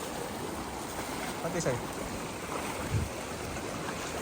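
A tributary stream of the Tadi river rushes steadily nearby, a continuous close wash of flowing water with a brief voice and a small splash over it.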